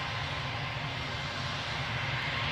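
An airplane departs Newcastle airport bound for Heathrow, its engines a steady, close, continuous roar with no talk over it.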